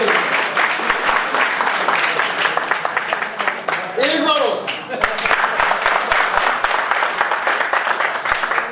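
An audience at a poetry recital at SKIET in Kurukshetra applauds with dense, sustained clapping that runs throughout, briefly dipping midway while someone speaks a few words over it.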